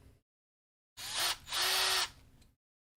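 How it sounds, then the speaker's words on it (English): A small handheld power drill works on a Voron V0.1 3D printer part, whirring in two close bursts of roughly half a second each with a brief dip between, then trailing off into quiet. "So I'm just going to have my little drill here."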